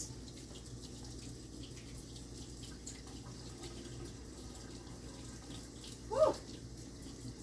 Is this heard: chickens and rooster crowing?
no